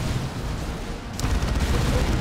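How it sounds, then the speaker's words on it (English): Heavy automatic fire from a Space Marine Assault Cannon in Dawn of War II: Retribution, a dense rumbling barrage of impacts that grows harsher and louder partway through amid battlefield noise. "we do have that Assault Cannon already just pouring in some damage on those Catachans"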